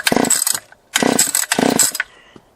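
Three quick pulls on the starter cord of a rebuilt Stihl 020 top-handle chainsaw with a new piston and cylinder, each a loud, close, ratcheting whir lasting about half a second, separated by short pauses.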